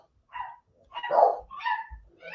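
Dogs barking indoors at home: a few loud, close barks and yips in an irregular sequence, with short pauses between them and no talking.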